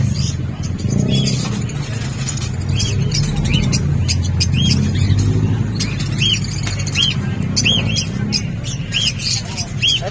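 Pet birds at a bird market squawk and chirp in bursts, with repeated high calls rising over a busy background of crowd chatter and passing traffic.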